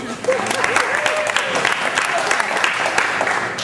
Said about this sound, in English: So if you applaud so I can embarrass him a little bit.